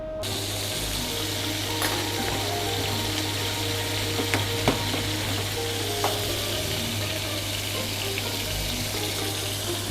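Onions cooking in a pan with a thick syrup forming around them make a loud, steady sizzle with occasional small pops, near and continuous throughout.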